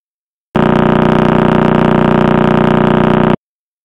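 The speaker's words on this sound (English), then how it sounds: "So here's the sound of the neutron star at the heart of the Crab Nebula." A radio-telescope recording of the pulsar, the neutron star at the heart of the Crab Nebula, rendered as a loud, dense, rapid buzzing pulse train that starts abruptly, holds steady for about three seconds and cuts off.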